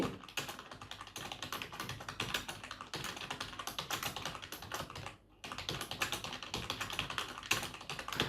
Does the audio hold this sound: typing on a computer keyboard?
yes